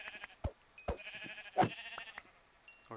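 Several short, distinct sheep bleats from a sheep in a Minecraft-style block-building game ring out one after another against soft game ambience, with the loudest near the middle.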